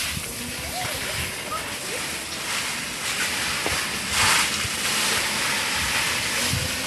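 Water spraying from a hose or sprinkler onto garden plants in dry ground, a steady hiss and patter with soft splashes, continuous and moderately close, with faint voices talking now and then.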